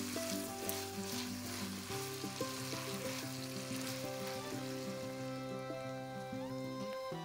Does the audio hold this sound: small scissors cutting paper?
no